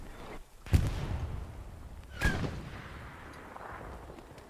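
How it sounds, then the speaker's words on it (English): Gunfire in the Hell Let Loose video game during a competitive match, with two sharp, loud reports about a second and a half apart standing out above a dense wash of distant battlefield noise. "Immediately drawing machine gun fire from Pan Pan."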